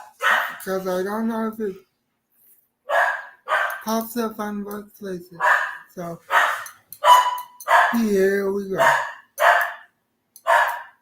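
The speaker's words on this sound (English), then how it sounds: "If my dogs ever shut up" Dogs bark indoors in a few short bursts, close by, mixed in with someone talking steadily throughout.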